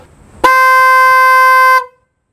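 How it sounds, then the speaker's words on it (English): A new aftermarket horn on a Suzuki GS500 motorcycle gives one loud, steady honk lasting about a second and a half. It starts and stops cleanly, close up and alone. "Versus the new horn."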